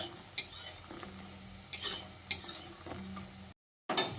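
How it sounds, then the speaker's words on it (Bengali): Small moong dal fritters frying golden in oil in a pan, with a steady soft sizzle broken by a few sharp metal clinks as the spatula turns them, and a brief dropout near the end. "তারপর বড়াগুলোকে উল্টে পাল্টে বেশ সোনালি করে বড়াগুলোকে ভেজে নিতে হবে"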